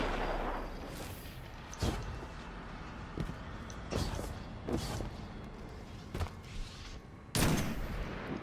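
Shotgun blasts in the sci-fi shooter Destiny 2, several heavy booming shots spaced irregularly over a rumbling game backdrop, with the loudest blast near the end.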